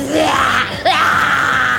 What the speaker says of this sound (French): Oh, le hurlement d'une créature furieuse, c'est jamais bon signe.